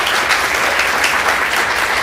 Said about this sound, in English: please, round of applause for Justine and Home Slice